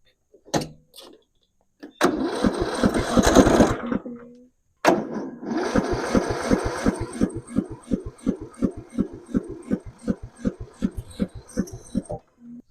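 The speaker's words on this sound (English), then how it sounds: "I'm having trouble starting my lawnmower." Lawn mower engine cranking repeatedly without catching: two short bursts, then a long run of rapid rhythmic starter chugs that weaken and slow as the battery drains, close and loud with no talking.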